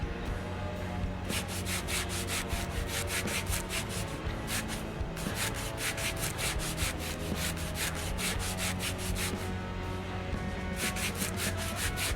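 Steady rhythmic rubbing strokes of sanding on a gun part in Gunsmith Simulator, repeated back-and-forth passes running continuously at moderate loudness with no talk.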